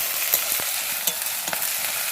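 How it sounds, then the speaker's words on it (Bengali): Onion, green chili, capsicum and ginger-garlic being sautéed with a spice mix in plenty of oil, a steady close sizzle and frying hiss broken by a few scrapes and stirs of the spatula in the pan. "কাঁচা লঙ্কা, ক্যাপসিকাম, আদা রসুন সব কিছু দিয়ে দেখো কষাচ্ছি, অনেকটা তেল দিয়ে কষাচ্ছি"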